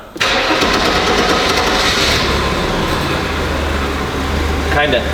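A junkyard Mercedes 190E with an inline six cranks and fires up, settling straight into a loud, rough, steady running roar close by, with a voice briefly audible over it.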